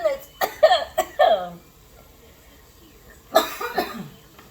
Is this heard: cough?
yes